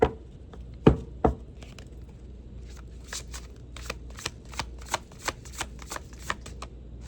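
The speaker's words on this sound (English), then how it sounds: "So this is an overhand shuffle." Oracle cards are shuffled by hand in an overhand style, a series of soft, irregular slaps and flicks close up.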